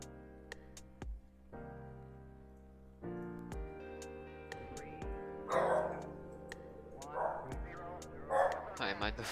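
A pet dog barks and yips in short bursts under steady music, the barks near and growing more frequent toward the end.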